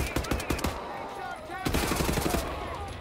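Enemy soldiers fire on the player in the shooter Wolfenstein: The New Order, rapid bursts of close gunfire crackling in clusters with a brief lull between volleys, with game sounds mixed underneath.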